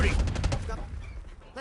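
Rapid bursts of enemy sniper gunfire in the video game Rainbow Six Siege, loud and close at first, then fading into a softer, rumbling game backdrop.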